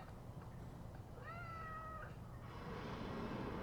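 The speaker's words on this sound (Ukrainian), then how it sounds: "О котики." A cat meows once in the S.T.A.L.K.E.R. 2 video game, a short clear rising-and-falling call over steady ambient background noise, with no talk.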